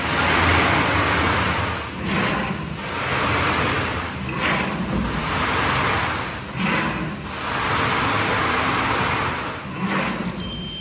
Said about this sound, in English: now start the machine